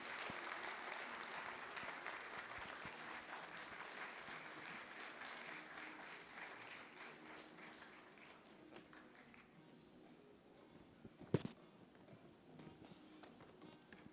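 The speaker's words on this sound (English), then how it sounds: "A round of applause for him, please." Applause at a film and TV festival and awards event as a speaker is called on stage, a broad, steady patter of many hands that gradually fades, followed by a single sharp knock near the end.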